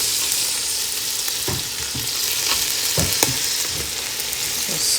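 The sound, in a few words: rice being stir-fried in a cooking pot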